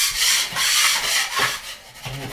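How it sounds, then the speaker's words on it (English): A blade scrapes drywall mud off a textured wall in continuous rasping passes, close and fairly loud, with slight swells as each stroke drags across the surface. "So I'm going to continue just to scrape these away there, and then just scrape down the whole wall here."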